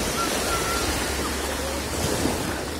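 Steady wash of sea waves at a beach in summer, a continuous broad surf roar with light wind noise and no distinct individual breaks.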